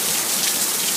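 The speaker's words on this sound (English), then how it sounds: "Pensacola is getting pounded, smashed with heavy rain and strong winds." Heavy hurricane rain lashes down in Pensacola during Hurricane Isaac, a loud, dense and unbroken roar of downpour with wind, steady throughout the full second and with no voices.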